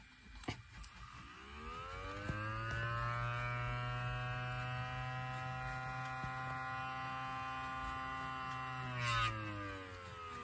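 An electronic siren running on a nearly dead battery gives a sustained, wavering electronic wail with a strong buzzing hum underneath. It starts after a brief click, holds steady for several seconds, then winds down near the end.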